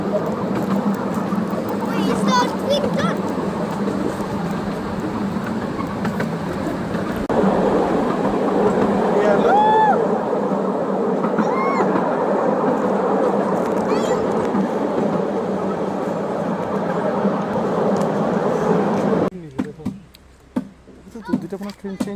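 Train passing on the Ruislip Lido miniature railway, a loud steady rumble and clatter of wheels on track that runs for most of the clip before dropping off, with people talking nearby.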